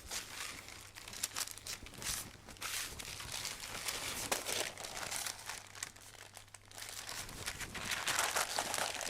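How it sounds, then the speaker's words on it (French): Parchment paper crinkles and rustles continuously as it is folded closed around a block of butter for laminated yeasted dough, close and soft with irregular crisp crackles. "je vais faire pareil en fermant mon papier sulfurisé"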